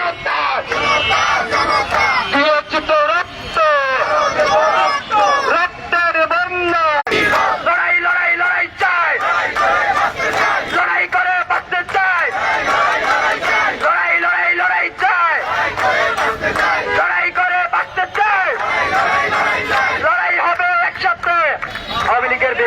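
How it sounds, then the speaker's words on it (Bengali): Protesting students at Raju in Dhaka chant slogans in unison, a loud rhythmic crowd call-and-response with yells and cheers, sustained and close throughout with brief pauses between chants. "তারা বিভিন্ন ধরনের স্লোগান দিচ্ছেন"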